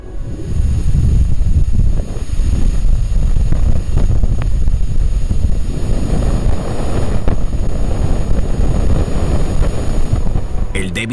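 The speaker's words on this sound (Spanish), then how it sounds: "El débil sonido que acabas de escuchar procede del viento solar que interactúa con Venus" Sonified magnetic and acceleration data from the BepiColombo spacecraft, capturing the solar wind interacting with Venus, forms a loud, continuous low rumble with a rushing, wind-like texture that holds steady throughout.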